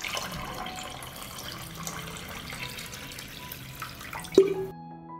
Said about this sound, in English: I pour hot water up to the height of the lid.